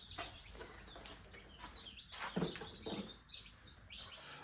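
Newly arrived mail-order meat chicken chicks peep and cheep in a brooder under a heat lamp, a busy overlapping chorus of high chirps at moderate distance with no voices.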